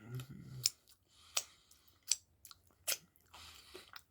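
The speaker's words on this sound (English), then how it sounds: "trying to focus on the potato chip. The crunch is interesting." Crunchy bites into a Reese's Big Cup with potato chips: four or five sharp, separate crunches spaced about a second apart, close to the mic, with quiet chewing between them.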